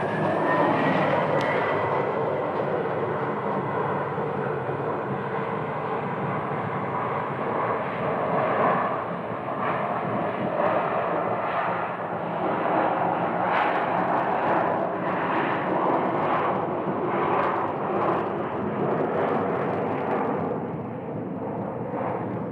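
An airliner departs from a runway at Phoenix Sky Harbor airport, a loud continuous jet engine roar that stays strong and steady throughout, with no talk over it.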